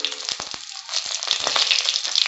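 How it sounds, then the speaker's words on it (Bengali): Bay leaves and whole cumin sizzle in a little hot oil, a steady bright crackle close by with a few sharp pops near the start, building slightly louder as it goes. "তুমি দুটো তেজপাতা আমি ফাটিয়ে দিলাম, তেজপাতা, তারপর গোটা জিরে দিলাম,"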